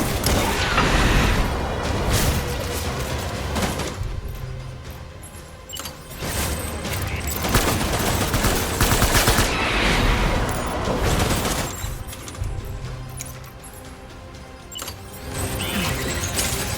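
Gunfire in the video game Death Stranding, a busy run of shots and mechanical clatter with heavy low booms that keeps going across the whole stretch, loud and dense, with no voices.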